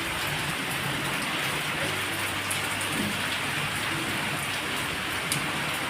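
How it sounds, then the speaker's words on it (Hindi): Steady rain pours down in a dense, even hiss with soft pattering on surfaces, continuous and fairly close, with no voices. "तो देखो बारिश शुरू भी हो गई है।"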